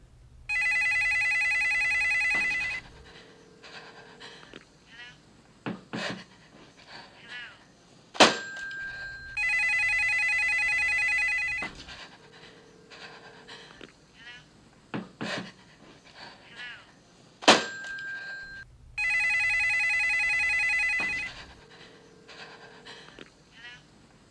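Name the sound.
house phone ringing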